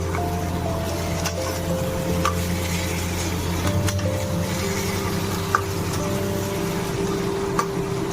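Fried chicken is stirred with spices in a pan over a steady sizzle and hum, with occasional soft scrapes and a couple of light clinks from the spoon against the pan.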